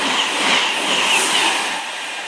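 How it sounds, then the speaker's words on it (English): A Virgin Trains Class 221 diesel multiple unit passes close by, a loud, steady broadband rush of engine and wheel noise that eases slightly toward the end. "that's definitely Manchester Piccadilly from London Euston, and a Chester Euston."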